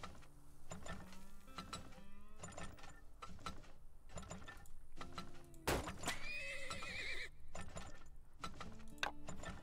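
Horses neighing and hooves clip-clopping in the Turmoil oil-drilling video game, a busy stream of repeated hoof clatter and mechanical clicks with a loud whinny in the middle, no talking.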